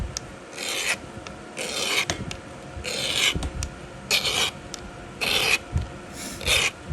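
Hand file rasping along a tool to sharpen it, about six to seven rhythmic strokes in a row, close and crisp with short pauses between, no talk.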